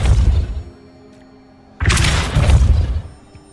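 The Depulso force spell goes off in Hogwarts Legacy with a loud whooshing boom. A first burst fades into a quiet gap, then a second, stronger blast hits before tailing off.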